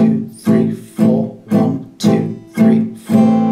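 Even acoustic guitar downstrums land on every beat, seven ringing chords in a steady pulse for a song, heard up close and unaccompanied.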